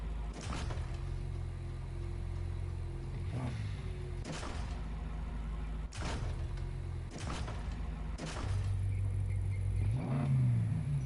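A stock 456 V8 engine in a video game idles with a low rumble, broken by several sharp thumps and a rising rev near the end.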